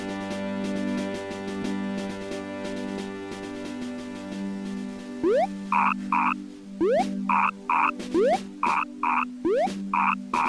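A frog in the video game Mother 3 croaks in a rhythmic series of short bursts over a looping musical backdrop, the calls repeating steadily through the second half.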